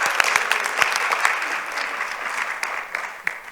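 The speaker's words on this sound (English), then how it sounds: "Let's give them a round of applause." An audience claps at a school-related event, a dense patter of many hands with a few sharper individual claps standing out, gradually thinning toward the end.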